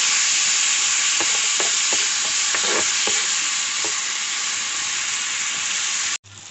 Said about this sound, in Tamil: அந்தளவுக்கு நல்லா வதக்கிக்கலாம்.